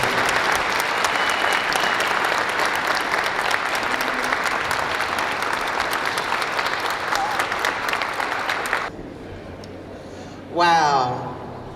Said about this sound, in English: Will you all give a round of applause to Atlanta's wonderful mayoralty?